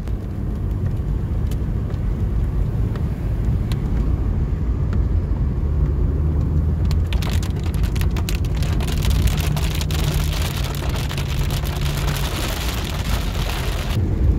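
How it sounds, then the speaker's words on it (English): Rain ahead of a supercell thunderstorm in western Pennsylvania patters steadily on a vehicle during a storm chase, the drops sharpening into denser ticks midway over a constant low road rumble. "This is the rain out ahead of the next supercell."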